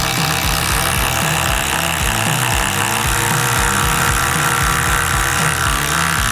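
Cordless impact driver run through a speed test against other brands, giving a loud, steady mechanical hammering drone with rapid repeated impacts throughout, close up and without talk.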